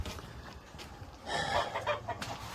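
Roosters and hens cluck and crow at an orchard and garden, loud and close, with bursts of clucking swelling in the second half over outdoor background noise.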